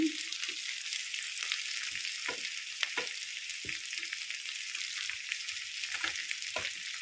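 Potato curry fries steadily in a pan with a constant bright sizzling hiss. Soft scraping knocks from a spoon stirring the pieces come through at irregular intervals, close and fairly quiet.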